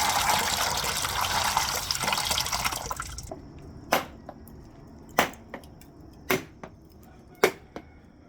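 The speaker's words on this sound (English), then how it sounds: "So right now I am washing the gungo peas." Gungo peas washed in a dish of water: a steady rush of pouring water for about three seconds, then quiet drips and splashes at irregular intervals as the peas are rinsed, close and fairly loud, with no talking.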